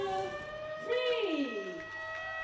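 A siren at the opening of the Benoa port channel widening and deepening project in Denpasar, Bali, rises and falls in a single wailing sweep, fairly faint, over a steady background hum.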